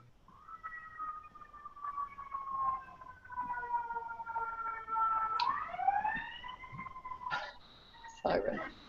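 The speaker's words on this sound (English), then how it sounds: "Siren. A moment." An emergency siren wails outside during an indoor speaker session, its rising and falling tones faint and distant, with a sharp knock near the end.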